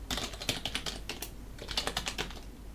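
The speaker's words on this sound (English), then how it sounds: "I have to type sudo now" Rapid typing on a computer keyboard while entering the sudo command during an Arch-based Linux installation, with quick irregular key clicks in two bursts separated by a short pause, close and clear.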